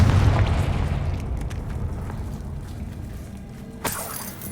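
A Confringo fire spell exploding in Hogwarts Legacy, a loud booming blast that rumbles and decays over several seconds, followed by a sharper crackling burst near the end.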